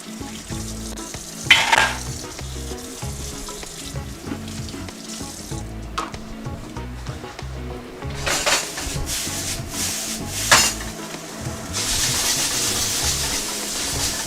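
Wok-fried Beijing zha jiang mian noodles sizzling and frying in a wok, with steady scraping and stirring strokes and bursts of louder hissing, close and continuous.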